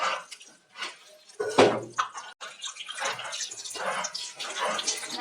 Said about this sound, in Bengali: শাকটা সুন্দর করে ধুয়ে নিচ্ছি